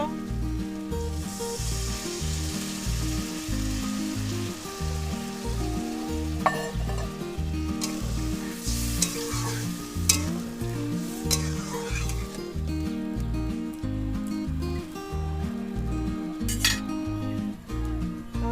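A frying pan of fish curry with taro stolons sizzles steadily after water is added, with close rhythmic stirring and occasional clinks of a utensil against the pan.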